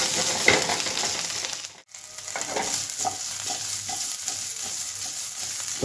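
Diced potatoes sautéed and stirred in a pan for sabudana khichdi, a continuous close frying sizzle with spoon scrapes and light metallic clinks, a brief dip partway through.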